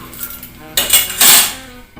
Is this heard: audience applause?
no